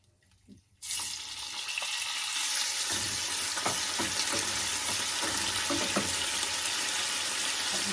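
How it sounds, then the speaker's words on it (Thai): Pork stir-fried in a pan for a Thai broccoli dish, a loud steady sizzle that bursts in after a quiet second and continues with scraping stirs and small clinks throughout. "เราจะผัดหมูก่อนนะคะ"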